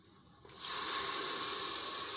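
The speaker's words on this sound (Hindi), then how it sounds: "अब हम डालेंगे इसमें थोड़ा सा पानी।" A sudden loud sizzle bursts out as water hits a hot pan of fried spices, onion and garlic, a sustained hissing roar that stays steady after a quiet start.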